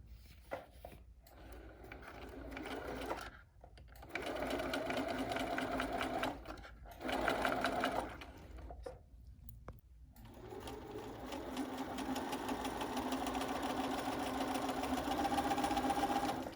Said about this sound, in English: So the machine is folding the tape and making the tie.